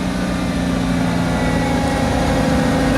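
A 2000 CAT GC25K forklift running on LP fuel, with a Mitsubishi 4G63 engine, idles at a steady, even rumble with no revving, close and continuous throughout.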